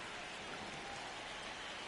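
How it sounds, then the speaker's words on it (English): Steady rain pours over the Wrigley Field ballpark during a Cubs versus Mets baseball game in MLB The Show 26, a continuous broadband hiss that stays faint and even throughout with no voices. "This rain is not letting up."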